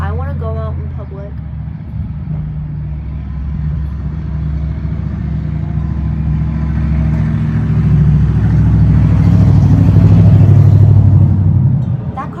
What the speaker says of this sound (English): that car does not look like it should be making that noise.